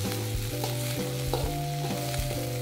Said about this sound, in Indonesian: Kita masak lagi dan kita tumis sampai tomatnya agak layu.